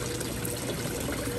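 Jacuzzi water jets running at a resort in Orlando, Florida, a steady dense rush of churning water, close and continuous with no talk.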